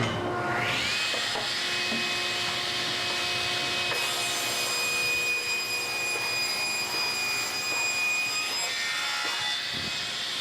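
A saw cuts lengthwise down the middle of an antique wooden table, a steady, loud whining rasp that holds for about ten seconds with a faint tonal ring above it and no talking.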